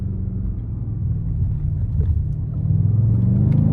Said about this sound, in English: Put the window down so you guys can hear the exhaust a little bit.